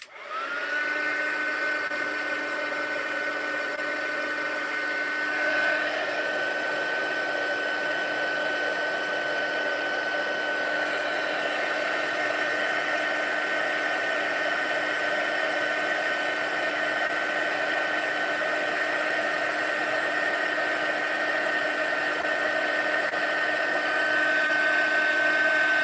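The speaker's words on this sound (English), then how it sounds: "Love watching heat embossing." Heat gun blowing steadily while heat embossing powder on a Christmas card, a continuous airy whir with a high tonal whine that shifts slightly in pitch partway through, close and sustained with no talking.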